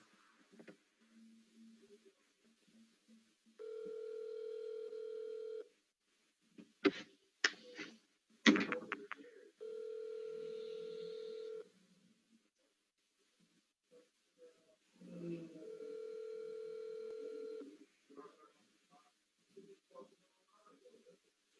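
A phone ringback tone on speakerphone repeats in three long steady electronic bursts with gaps between, faint and close, broken by clicks and handling knocks and a little quiet talk.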